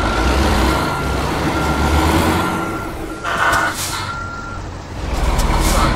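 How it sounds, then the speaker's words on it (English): A truck's reversing alarm beeps steadily over a rumbling diesel engine and hissing air brakes in the American Truck Simulator game, loud and continuous with no talk. "Hey guys, we're backing up."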